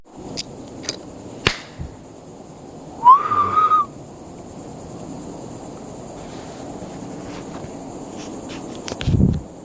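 A single sharp, rising whistle rings out near the three-second mark in a quiet forest, followed by scattered faint knocks and rustles and a low thump near the end.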